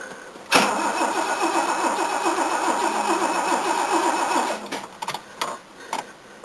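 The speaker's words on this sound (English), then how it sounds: "Bearings in the starter sound a bit sad." An old car's engine cranks on its starter motor, whose bearings sound worn: a continuous close whirring grind for several seconds, then it stops and a few sharp clicks follow.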